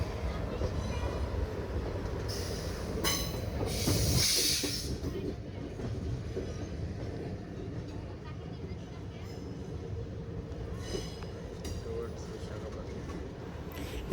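Narsapur–Nagarsol Express no. 12787 running between Vijayawada and Secunderabad, heard from on board as a continuous loud rumble with clattering wheels and brief hissing, steady throughout, with a voice talking over it.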